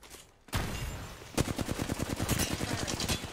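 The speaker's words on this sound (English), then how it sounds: "I missed all of those crucial shots" Gunfire in Apex Legends rattles in a quick rapid burst of close shots after a brief lull, loud and evenly spaced, alone without talk.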